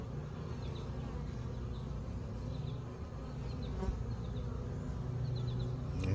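A dense, steady hum of many honeybees buzzing together inside an open hive around the queen, close and continuous, with occasional individual bees droning past.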